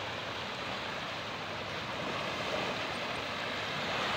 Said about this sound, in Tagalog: dito guys lumalaki ang alon yan, tumataas ang alon